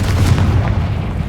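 A Confringo blasting spell explodes in Hogwarts Legacy, a short, close, heavy boom with a deep rumbling low end.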